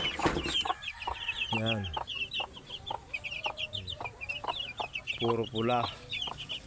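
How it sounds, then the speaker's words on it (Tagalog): Chicks and chickens in a small backyard poultry pen cluck and peep in quick bursts close by, while a person speaks briefly over them. "Tapos ito po ang aking mga sisiw."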